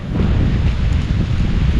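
Strong, continuous wind roaring across the microphone with a low, rumbling buffet, steady and loud throughout with no voices.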